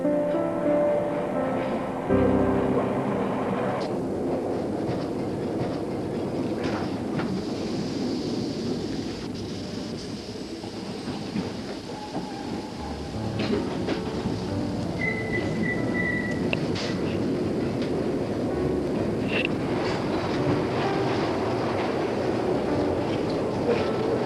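A loud, continuous rumble and rattle of a Glasgow Subway train running through an enclosed tunnel, with clanks, squeals and a brief whine as the T-irons momentarily lose contact with the pickup rails.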